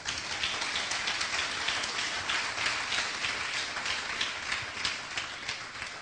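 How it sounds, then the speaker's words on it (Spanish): A church congregation applauding during a sermon, a broad, even wash of many hands clapping that carries steadily for several seconds at moderate distance, with no speech over it. "Den un aplauso al Señor."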